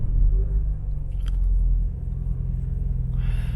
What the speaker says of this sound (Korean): 시동을 켜고